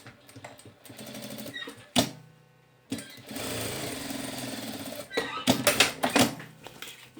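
Sewing machine stitching the pocket opening of a simple handmade fabric wallet, running in steady bursts with short pauses between seams, close and fairly loud, no talking.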